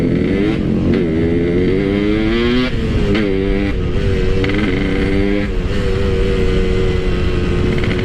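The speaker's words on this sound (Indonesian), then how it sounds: "kedengeran gak ya di kalian suara knalpotnya?" A Yamaha RX King motorcycle fitted with a Boban C33 exhaust, its two-stroke engine running loud and close, revving up and down in repeated swells with a raspy, buzzing note.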